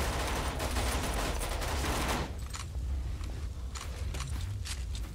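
Rapid, dense gunfire from the first-person shooter Necrovision rattles loudly for about two seconds, then continues as sparser, lighter shots and scattered impacts.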